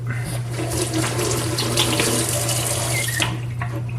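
A tomato is washed under a running kitchen tap. Water gushes steadily and loudly for about three seconds, then tapers off as the flow is shut.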